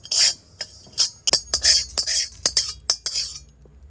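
A metal spoon scrapes and clinks in an iron wok as roasted black tea-leaf hair remedy is scooped into a bowl, giving a string of close, sharp scrapes and taps in a steady rhythm.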